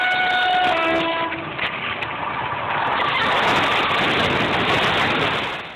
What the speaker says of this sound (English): Hey, look out, train is coming.